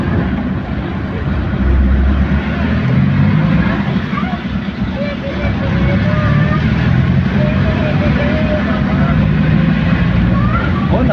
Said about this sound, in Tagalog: Tahimik ng makina